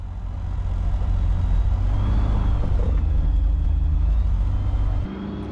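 A light aircraft, Delta India, lining up on runway 36 of a short downhill strip at Skegness, with a loud, steady engine rumble close by that drops in level near the end, no talk.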